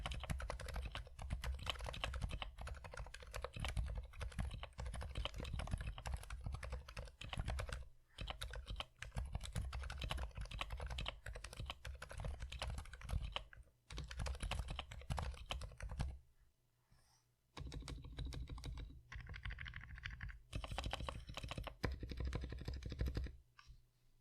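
Rapid, continuous typing on a keyboard with silent mechanical switches (Durock Dolphin), close up, the muffled clacks pouring out in fast bursts with a few brief pauses.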